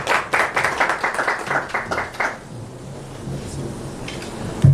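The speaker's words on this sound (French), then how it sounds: "On accueille l'ambassadeur, on applaudit s'il vous plaît." An audience welcomes an ambassador with a burst of quick, rhythmic clapping for about two seconds. It then breaks off into low room murmur.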